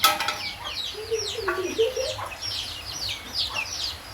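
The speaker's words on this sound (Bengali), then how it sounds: "4টা মুরগি এখানে খাঁচার ভিতরে রেখা পালতেছি" Farm chickens kept in a cage cluck in short, close calls over a busy background of chirping birds.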